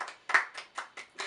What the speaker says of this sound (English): Veronica Rossi needs some applause for creating him